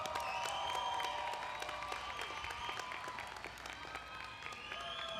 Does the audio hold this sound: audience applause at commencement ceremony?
yes